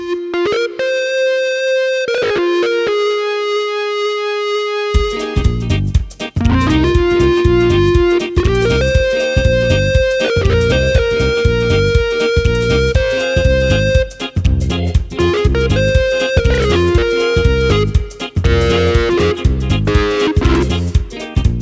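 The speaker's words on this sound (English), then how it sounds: "this patch uses the wah distortion effect, it's very scratchy" A Yamaha PSR-EW310 keyboard with a scratchy wah-distortion patch plays a choppy reggae rhythm over bass and drums, loud and steady, after a brief sustained synth intro.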